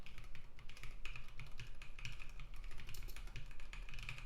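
Keys clatter steadily on a computer keyboard with a slightly sticky key, a close, quick rhythm of taps with no voices.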